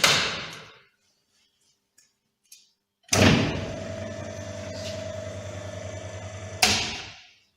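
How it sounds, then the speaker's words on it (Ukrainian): A circuit breaker switched on in a vocational training workshop to power an assembled circuit: silence with a few faint ticks, then a sharp clack followed by a steady electrical hum that ends with another clunk. "Включаємо автоматичний вимикач."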